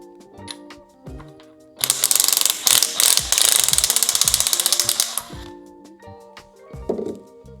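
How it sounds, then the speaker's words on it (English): An impact wrench rattles in a loud, rapid burst of hammering clicks for about three and a half seconds while loosening a part on a Kranzle 1622 pressure washer, with lighter metallic handling clicks before and after. "Actually, you know what? Let's use the impact wrench."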